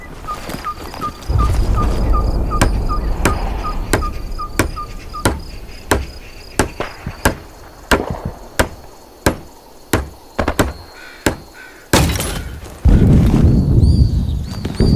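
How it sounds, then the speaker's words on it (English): Sharp, repeated hammer strikes building a barricade in the video game Hell Let Loose: Vietnam ring out in an uneven rhythm, each a loud metallic knock over a steady insect-like chirping and a low rumble. "Use the hammer in your loadout to finish constructing it."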